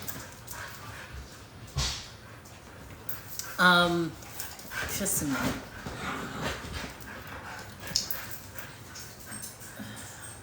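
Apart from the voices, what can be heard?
dogs whimpering and barking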